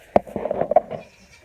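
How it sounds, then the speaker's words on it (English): A horned goat named Marsha bleats on a farm, giving a few short, wavering cries that rise and fall close to the listener, followed by quieter background noise. "Marsha, one of my horned goats,"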